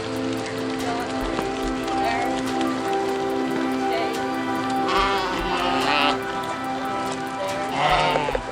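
Sheep at the annual sheep parade through Fort Saskatchewan bleat over a constant wash of outdoor noise, with several wavering calls standing out near the middle and again at the end.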